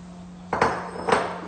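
Chopped vegetables, about 400 grams of onion, celery and peppers for rice with raisins, dropped into a cooking pot in two separate clattering bursts, close and moderately loud over a low steady hum.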